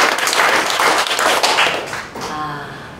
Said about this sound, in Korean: 우리 주님 앞에 영광의 박수를